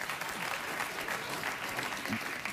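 A late-night talk show studio audience claps in steady, moderate applause that carries through the whole brief moment.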